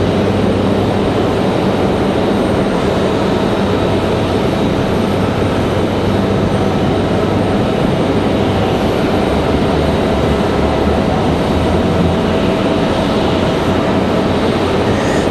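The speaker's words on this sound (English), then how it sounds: "So here goes our Delta A220 A300 back to Boston" A Delta Airbus A220 jet departing Raleigh-Durham for Boston, its engines a loud, steady broadband roar that holds throughout with no voices.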